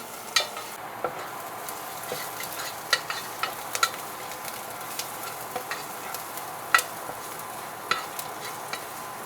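Garlic frying in a pan with a soft continuous sizzle, punctuated by irregular sharp clicks and scrapes of a utensil stirring against the pan, close-up with no talking.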